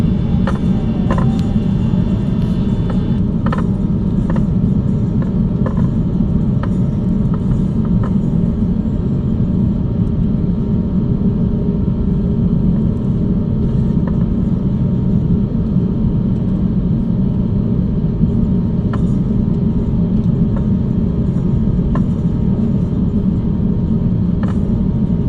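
Airplane at Manila airport taking off, heard as a loud, steady jet engine roar and low rumble that holds for the whole stretch, close and continuous.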